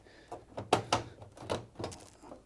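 The plastic control panel of a Hoover tumble dryer slides under the water container housing and knocks into place with several short scrapes and thunks at close range, irregularly spaced.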